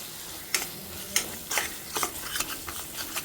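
Spices and finely ground dry coconut are stirred and fried in a pan for a chicken curry. Soft scraping strokes repeat over a faint sizzle, with no talking.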